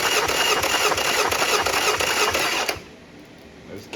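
A Yamaha 50HP outboard cranks over steadily on the starter during a cylinder compression test, a loud, fast, even whirring chug that stops abruptly, leaving quiet.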